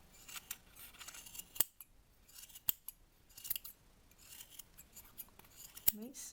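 Scissors snip through yarn to trim a round pompom, a steady series of soft close cuts with several sharper, louder snips standing out, over quiet rustling of the yarn.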